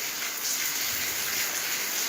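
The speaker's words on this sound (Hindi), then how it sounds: "लगातार अभी तक बारिश हो रही है" Steady heavy rain falls continuously on Eid ul Adha, a soft even hiss of water without pauses, moderately faint and with no voices over it.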